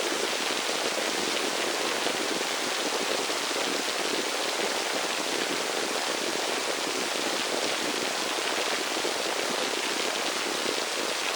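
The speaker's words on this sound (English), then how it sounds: "you were probably able to hear that as maybe an increase in the downpour of rain" A heavy rain downpour made for relaxation and sleep sound design: a loud, dense, unbroken wash of hiss with no pauses, no voices and no other sounds.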